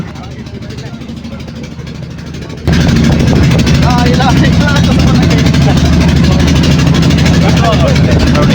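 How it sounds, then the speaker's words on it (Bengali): A trawler boat's engine drones steadily while crossing a river on choppy water, a lower, quieter rumble at first that jumps to a loud, continuous roar partway through and holds to the end, with faint voices mixed in. "আপনারা যদি কখনো এরকম নদী পারাপার হন ট্রলার দিয়ে"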